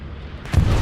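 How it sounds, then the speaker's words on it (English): In the Hell Let Loose war game, a bombing run hits with a sudden heavy boom halfway through a brief moment of low ambient rumble, the blast loud and rolling out to the end. "Bomb and run is coming down for EXO. It's going to be an okay bombing run."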